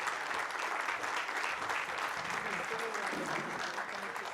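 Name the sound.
audience applause for panelists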